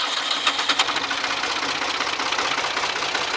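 A warm engine runs loud and steady after a key start, its close, even rumble holding without a break.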